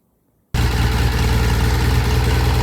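Vintage British motorcycle engine starting abruptly from silence and then running steadily at a loud, close idle with a thick, even low rumble.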